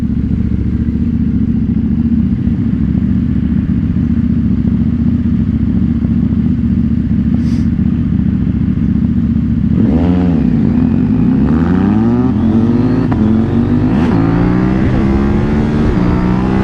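A KTM Duke 790 motorcycle engine drones loudly and steadily while being ridden, then revs up hard partway through with rising, swooping pitch as it accelerates, close and continuous.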